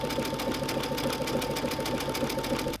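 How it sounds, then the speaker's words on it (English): A home sewing machine stitches decorative stitches along a raw edge, its motor whirring steadily with a rapid, even needle rhythm from start to finish, close and clear with no voices. "I'm going to sew all the way up to the corner"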